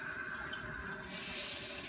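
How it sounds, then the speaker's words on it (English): Water runs steadily from a sink tap into the basin, a constant hiss and splash that is fairly quiet and has no talking. "You will turn on your water."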